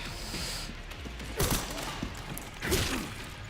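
Gunfire rattles through a dense, noisy action scene in the video game Resident Evil 9: Requiem, with a couple of heavier shots standing out over steady background din.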